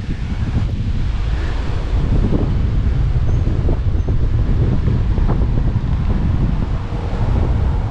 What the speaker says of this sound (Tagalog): Kahit napakalakas ng hangin